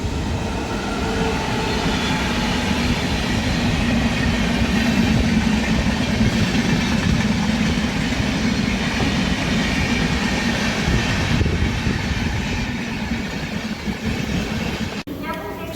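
A MEMU local train running on the line between Kazipet and Chennai, heard from inside the carriage as a loud, continuous rumble of wheels on rails with rattling, while voices are faintly present.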